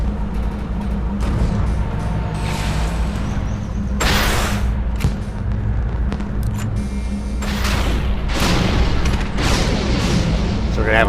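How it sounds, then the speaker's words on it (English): In the video game Defiance, a Liberty fireworks launcher sets off a rapid string of booming bursts and crackles, loud and overlapping throughout, with a voice talking over the noise. "we're going to have a fireworks show here once we get the bridge"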